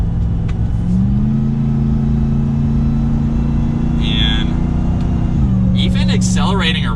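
A 2022 Ram 1500 TRX pickup truck engine hums steadily and rises in pitch as it accelerates around a turn, heard from inside the cab, then eases off. Brief voices are heard near the end.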